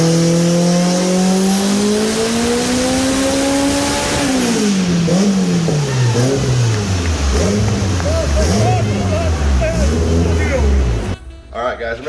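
A 686-horsepower 1990 Acura Integra without VTEC screams through a loud dyno pull, its engine note rising steadily before dropping and burbling as the revs fall, then cutting off near the end.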